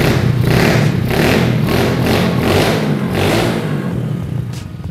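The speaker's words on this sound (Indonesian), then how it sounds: "Dan ketika idle gini, suara knalpot ini terbilang halus, sedikit banget bersuaranya." A Honda mini bike engine idles loudly and close, its exhaust giving a steady, slightly pulsing putter throughout with no talking.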